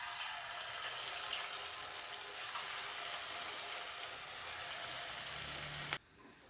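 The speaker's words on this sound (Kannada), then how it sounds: "ಇವಾಗ ಇದನ್ನು ಎಣ್ಣೆಯಲ್ಲಿ ಬಿಟ್ಟು ಕರ್ಕೊಳ್ಳೋಣ ಬನ್ನಿ." Battered gobi manchurian cauliflower fries in hot oil, giving a steady, bright, hissing sizzle that holds close and even before cutting off abruptly near the end.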